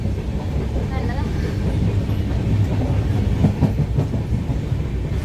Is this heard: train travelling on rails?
yes